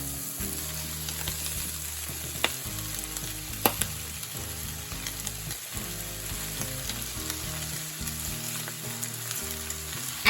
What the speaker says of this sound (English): I'm going to add in the cabbage, give it a good stir, and get it cooking.